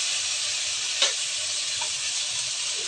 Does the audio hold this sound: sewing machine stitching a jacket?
no